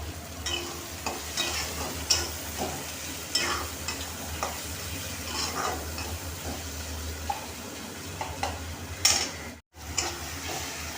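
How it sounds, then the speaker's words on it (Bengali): Onion and tomato masala with salt and turmeric frying in a pan, a continuous close sizzle broken by repeated scraping and clinking stirring strokes, with no voices. "এটা আমার ভাজা হয়ে এসেছে।"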